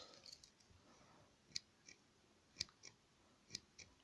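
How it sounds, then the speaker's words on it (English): The scissors of a Victorinox SilverTech Huntsman pocket knife snip open and shut several times, sharp metallic clicks at roughly one-second intervals with faint softer clicks between, close and quiet. "scissors."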